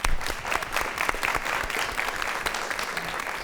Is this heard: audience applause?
yes